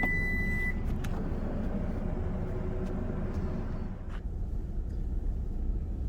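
Steady low road rumble from a 2021 Lexus UX200 subcompact crossover on the move, an even drone of engine and tyre noise from inside the cabin with a brief high beep at the start.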